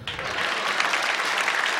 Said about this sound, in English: a round of applause for sir